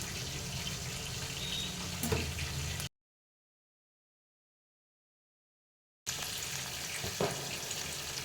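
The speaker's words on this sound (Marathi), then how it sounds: "त्यात मी कांदा घातलेला आहे. कांदा परतून देत." Chopped onion sautéing in a pan for a Bhogi mixed-vegetable dish, a steady hissing sizzle with an occasional stir, close and even, broken by a stretch of complete silence in the middle.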